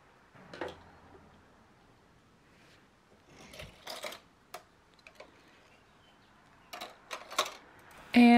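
A knitting machine is cast on with an e-wrap, giving sparse, quiet ticks and small clattering clicks in scattered bursts against a near-silent background.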